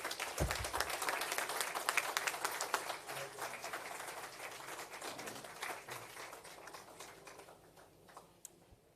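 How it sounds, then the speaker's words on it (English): A room full of people applauds after a speech at a national disaster risk management council meeting in Jamaica. Dense clapping starts strong, then slowly thins and fades toward the end, with a few last scattered claps. "Let us thank one more round of applause"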